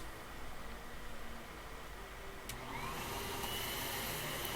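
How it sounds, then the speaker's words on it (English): A vacuum cleaner in the video game Anodyne 2 drones with a steady breathy whoosh, its pitch changing and rising slightly toward the end, heard alone at moderate volume. "The vacuum cleaner is back."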